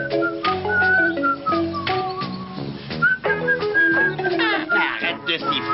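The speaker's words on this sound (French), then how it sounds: "Arrête de siffler, j'entends rien." A cartoon fox character whistles a wandering melody over a busy animated soundtrack with music, while other characters talk around it.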